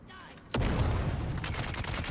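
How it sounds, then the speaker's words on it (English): A grenade explodes in the Dune Awakening video game: one sudden loud blast that bursts in after a quiet half second and rolls on as a thick, rumbling roar with crackling debris to the end. "Oh fuck, where did that grenade come from?"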